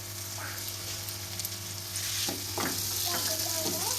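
Onions and tomatoes being stirred as they fry in a pan for masala-stuffed okra, a steady close sizzle with a few scraping stirs in the second half.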